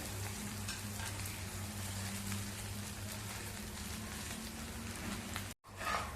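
Cut pieces of a mung bean snack land in a sizzling oil tempering, producing a dense, even crackle with a low hum beneath, then a sudden brief cutoff before the frying resumes; no voices.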